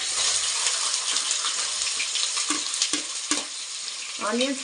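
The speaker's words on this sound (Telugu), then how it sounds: "ఇవి బాగా ఫ్రై అయిన తర్వాత ఇందులోకి సన్నగా కట్ చేసుకున్న ఆనియన్స్" Finely chopped onions frying with cumin seeds in a pan for a dhaba-style chicken curry, a constant hiss and sizzle broken by a few stirring scrapes, close and fairly loud.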